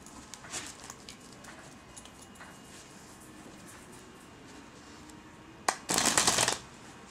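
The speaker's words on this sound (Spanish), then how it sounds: "Vamos a mezclar un poco las cartas." A deck of playing cards shuffled during a magic trick performance, with soft handling rustles building to a brief, loud riffling burst near the end.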